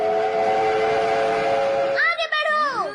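A cartoon human railroad set gadget sounds off with a steady whistle-like train tone, then rising and falling whooshing chimes and swoops, loud and close over a constant rumble.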